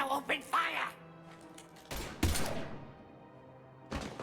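Gunfire from the video game Mass Effect 2 (Legendary Edition) comes in a few sharp, loud bursts spaced out over a couple of seconds. It follows and overlaps game voice dialogue.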